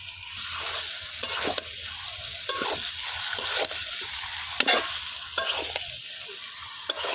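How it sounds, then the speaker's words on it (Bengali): Chicken pieces are tossed in a hot pan with turmeric, chili and spice masala, giving a steady sizzle broken by sharp repeated scrapes and clacks of the spoon against the pan, close and with no talk. "আগে আমি মাংসটা হলুদের সাথে, হলুদ মরিচ মশলার সাথে আর কি মিশাই দিব।"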